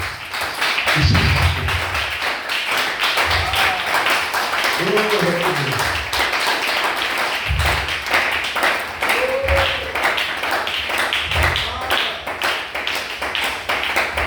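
Church congregation clapping and cheering in praise, a dense continuous patter of applause, with voices shouting over it throughout.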